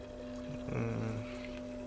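Aquarium air pump pushing bubbles at maximum setting in a small home tank, a constant low electric hum with a brief surge of gurgling water in the middle, faint and close.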